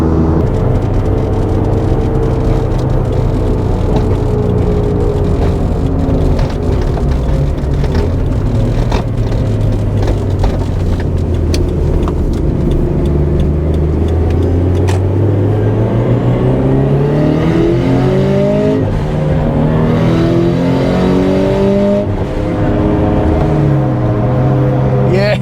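A turbocharged Subaru BRZ fitted with a screamer pipe revs repeatedly up and down, its loud raspy engine note rising and falling close by, with turbo whistle and whoosh over the top and talk faintly underneath.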